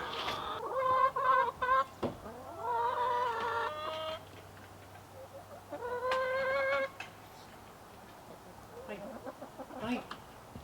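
Several chickens cluck and squawk in bursts inside a coop, close and fairly loud, with pauses of quieter background between the calls.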